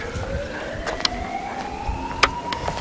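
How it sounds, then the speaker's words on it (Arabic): A Red Crescent ambulance siren in Aleppo's Salah al-Din district during shelling: a faint, distant wail that rises slowly over low background rumble, with a couple of sharp clicks. "هذه صوت سيارة الهلال الأحمر"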